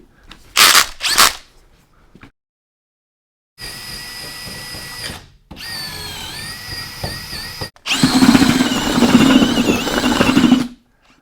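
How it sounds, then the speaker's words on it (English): A power drill fitted with a mixing bit churns concrete and water in a bucket. It runs in several loud bursts with short pauses between, and the final burst sounds heavier and grittier. "Then we add water and mix with our special mixing driver bit."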